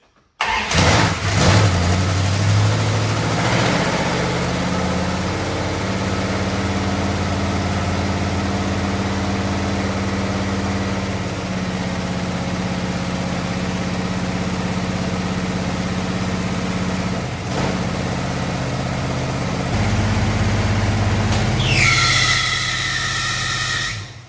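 A Dodge Dart being readied for the Mopar Nationals cranks and fires up, then settles into a steady, loud, close idle for about twenty seconds before revving up near the end.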